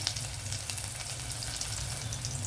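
Onions sizzle steadily in a hot pan for a savory tamarind curry, a continuous crackling hiss with faint popping, close and alone without talk.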